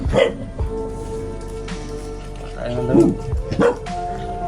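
A dog barks and yips a few times close by while people talk over it.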